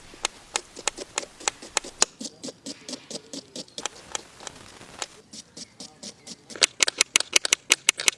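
Garlic and onion being cut with a knife for a curry leaf chicken curry, a steady run of sharp, close chopping strikes that speed up into a quicker burst near the end, with no voices.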